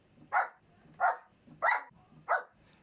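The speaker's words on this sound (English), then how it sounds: "So here's the barking" A dog barks four times in a steady rhythm, each bark short and clear, with quiet gaps between, recorded fairly close as a sample.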